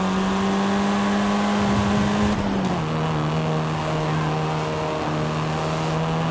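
Engine sound from a Volkswagen Golf R in the Forza Horizon 5 racing game, a steady loud drone that shifts down slightly in pitch midway and then holds at a constant level.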